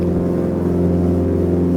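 A Piper PA28-181 Archer single-piston engine drones in the X-Plane 12 flight simulator, a loud, steady close-up hum with strong harmonic tones and a constant propeller throb, no voices present.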